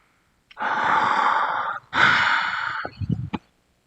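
A person playing a tabletop fantasy game imitates a creature's heavy breathing with two long, loud, rasping breaths. A few short snorting huffs follow close to the mic.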